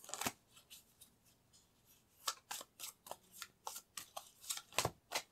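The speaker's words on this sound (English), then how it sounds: "Let me pick a few more cards." Tarot cards handled and picked during a reading, giving a series of short, crisp card snaps and flicks that come in irregular bursts, close and fairly loud, with no talking.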